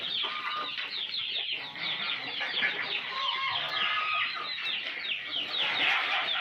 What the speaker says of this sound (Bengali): এটা আর মোরগ।